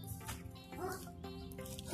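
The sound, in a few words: magic wolves barking and yipping in Code Lyoko video game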